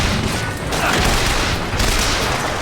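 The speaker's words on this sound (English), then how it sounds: "Watch out, rockets!" Rockets firing and exploding in the Bioshock Infinite video game, a loud, dense roar of blasts and booming bursts with no pause.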